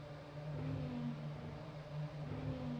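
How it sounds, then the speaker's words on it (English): In a Formula racing video game, several cars rev their engines on the starting grid before a race at Magny-Cours, a steady droning engine hum with rising and falling pitch at moderate volume. "You can see the drivers revving the cars."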